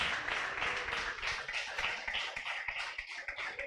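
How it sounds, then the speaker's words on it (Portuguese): A church congregation at an evening service applauding, quick rhythmic clapping from many hands mixed with scattered voices, moderately close and steady with slight swells in intensity. "Pois aplauda o Senhor nessa noite."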